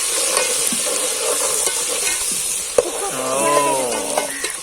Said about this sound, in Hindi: ये अदरक लहसुन का पेस्ट अब शूम शूम शुरू हो जाएगी देगची में से निकलना।